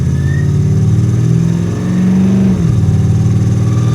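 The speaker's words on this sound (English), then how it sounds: "That LS sounds so badass." Corvette LS V8 swapped into a Hummer with side exhaust, revving with a loud, steady deep rumble that rises briefly in pitch and then settles back, heard up close with no talk.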